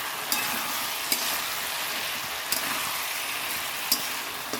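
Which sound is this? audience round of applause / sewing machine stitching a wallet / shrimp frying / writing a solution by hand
shrimp frying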